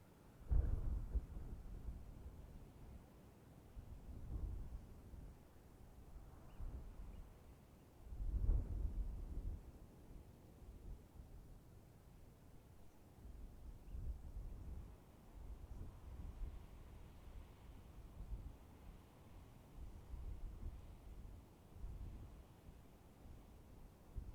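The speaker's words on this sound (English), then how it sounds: "Listen to the sound of the wind in the mountains." Low wind rumbling in the mountains, quiet and gusty with a few stronger buffets swelling and fading, heard alone without voices.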